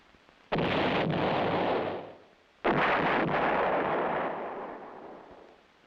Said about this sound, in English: One battery of towed 8-inch howitzers is included in the Infantry Division artillery